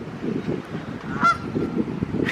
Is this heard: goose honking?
yes